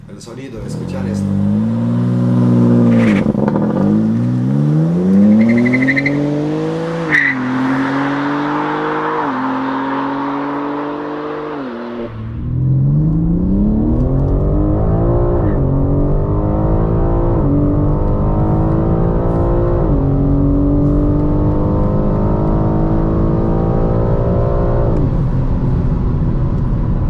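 A high-performance car, a BMW M4 or a 510-horsepower Mercedes C63 S AMG, accelerating hard through repeated gear changes, its loud engine climbing in pitch with each gear, with speech over parts of it.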